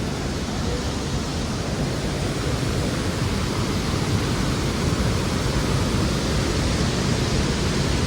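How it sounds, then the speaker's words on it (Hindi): A river swollen by heavy rain in Nandanagar rushes past in a dense, constant roar of water, loud and unbroken throughout with no voices. "यहाँ नदी बहुत तेज बढ़ गई"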